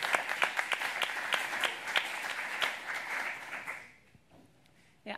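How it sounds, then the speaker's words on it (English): An audience applauds for Philip at a climate-change courtroom discussion, a steady patter of clapping with a few sharper claps standing out, fading to near silence after about four seconds. "why don't we clap for Philip"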